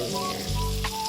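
Soft bananas fry in butter in a hot pan, a dense, close sizzle with a brief extra crackle near the end.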